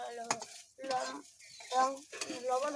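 Rice is stir-fried in hot oil in a pan, with repeated scraping stirs and bursts of sizzling at a moderate, close-up level.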